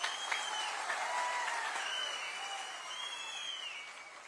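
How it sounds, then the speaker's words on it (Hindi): Applause from a political campaign rally crowd in Haryana, including people sitting and standing along the street, a dense steady wash of clapping that stays even and moderately distant for the whole stretch. "ये तालियां सड़क पर भी लोग बैठे, जो खड़े हैं, बैठे हैं, वो भी बजा रहे हैं"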